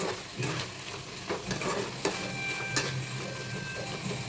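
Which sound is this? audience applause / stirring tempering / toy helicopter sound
stirring tempering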